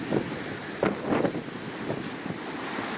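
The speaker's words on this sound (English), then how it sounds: "Had some energy taken out of it, but there's a backup wave coming." Sea waves splash and wash against the shore at the southernmost point of the UK, with several soft surges under constant wind buffeting the microphone.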